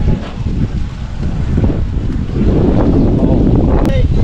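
Strong southwest monsoon (habagat) wind roars and buffets the microphone in heavy low rumbles on Camotes Islands, Philippines, with a voice speaking briefly beneath the gusts.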